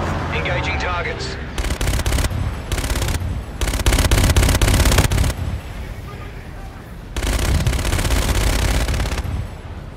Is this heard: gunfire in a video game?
yes